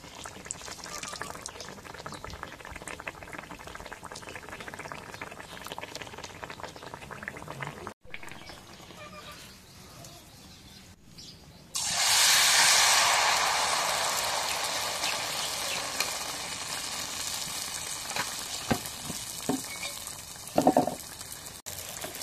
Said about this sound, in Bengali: তেলটা গরম হয়েছে, এখন গোলাটা দিই